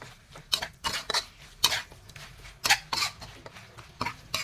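Pork being stirred with curry paste in a pan, a utensil scraping the metal in irregular close strokes, some sharp and some softer, with no talking.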